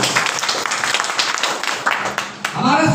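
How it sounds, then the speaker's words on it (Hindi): An audience at a product presentation breaks into loud, close applause, a dense burst of clapping lasting a few seconds before a voice starts speaking. "जोरदार जबरदस्त तालियां होनी चाहिए"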